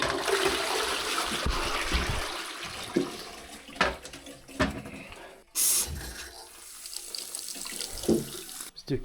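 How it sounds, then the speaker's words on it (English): Toilet flushing in a house with newly fitted pipework, a rushing gush of water that comes in bursts and then settles into refilling and trickling. "Let's go and flush the toilet"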